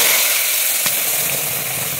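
Onion-tomato paste dropping into hot oil sets off a loud, close, steady sizzle with one brief spatter near the start, continuing as a dense hiss.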